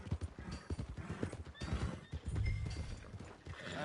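Horse hooves clip-clop in a steady rhythm and a horse whinnies in Red Dead Redemption 2, the hoofbeats close and clear with no talk over them.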